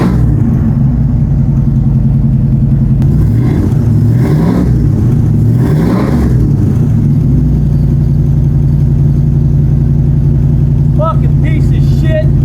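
A car engine with faulty lifters and an oil leak runs up close, a loud steady rumble that revs up and down a few times before settling into an even drone, with someone talking over it.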